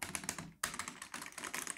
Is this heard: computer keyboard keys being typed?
yes